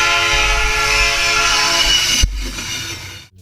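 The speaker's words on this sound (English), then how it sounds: "the first thing you hear is a train horn in the distance" A train horn blares in one long sustained blast over rumbling rail noise, then cuts off abruptly, leaving a quieter rumble before a sudden drop.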